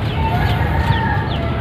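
Backyard chickens cluck and crow softly in a steady, close farmyard chorus, with no voices over them.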